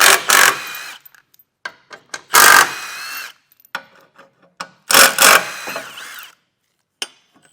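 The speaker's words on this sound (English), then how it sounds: "Now we can take a 15mm socket and remove these 3 bolts that are holding this plate on." A power tool with a 15mm socket spins bolts off a base plate on a 2017 GMC Sierra 1500 in three loud, close bursts of whirring, separated by quieter clicks and handling noises.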